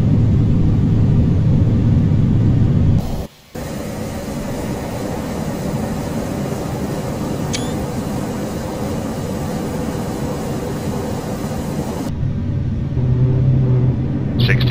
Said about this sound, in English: Reverse thrust set.